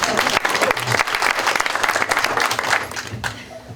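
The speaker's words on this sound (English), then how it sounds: "If you could do another round of applause." An audience at a Rhinebeck Democrats Club meet-the-candidates event gives a round of applause, a dense burst of many clapping hands that holds steady and then thins out near the end.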